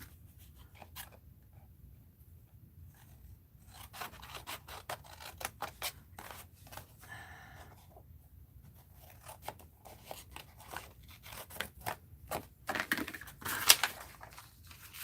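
Scissors snipping through paper for an art journal zine, quiet at first and then a series of irregular close crisp cuts and crunchy rustles that grow louder toward the end, with no talking.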